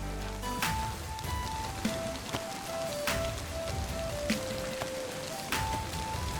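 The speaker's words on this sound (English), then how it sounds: "It starts raining as I head back" Rain falling in the video game DayZ: a constant, close hiss of rainfall with scattered drip clicks, under soft stepped melodic tones.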